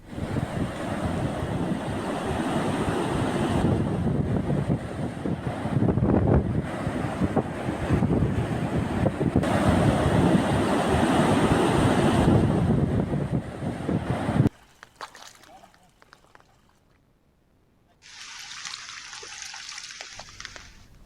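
Loud, continuous rush of heavy cyclone rain and flowing floodwater at a project tunnel in Prakasam district, Andhra Pradesh, for most of the clip, then a sudden drop to near quiet.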